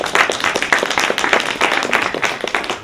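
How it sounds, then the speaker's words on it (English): Audience applause at a contestant showcase at the 2015 African Union Expo, a steady roomful of clapping hands sustained for several seconds with little talk. "Give her another round of applause, folks."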